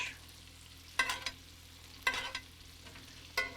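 Fish pout sizzles in a pan with butter, parsley and garlic, with three brief bursts of stirring or spooning scrapes over a quiet, steady frying hiss close up.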